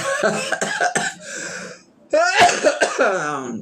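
A man coughs in short harsh bursts, several in a row, then after a brief pause gives a longer, rougher run of coughs with throat clearing, close to the mic.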